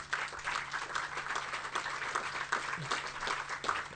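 Audience applause at an Italian talk on art exhibitions: steady, even clapping from a crowd holds throughout, moderately loud and continuous.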